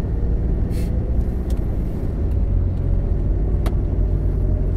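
Heavy trucks and other big vehicles crawl in a queue on the port toll road out of Tanjung Priok, a steady deep engine rumble with a couple of brief hissing bursts like air brakes.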